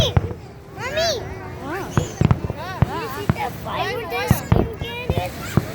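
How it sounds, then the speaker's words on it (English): Fireworks over Lake Tahoe on the Fourth of July pop and thump at a distance in scattered bursts, while children shout and chatter excitedly close by over them. "You see that fireworks?"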